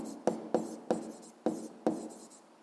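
A pen writes a physics formula on paper in a quiet room, five sharp taps and short scratching strokes spaced in an irregular rhythm, close and soft.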